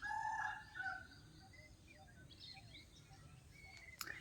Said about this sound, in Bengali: এই যে সামনে দুটো ঘুরছে, এদেরকে কি নাকি চাইনিজ মুরগি।